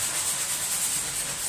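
A sanding block rubs back and forth over a patched wall around a repaired hole, making a steady, close, hissing scrape with no pauses and no voices.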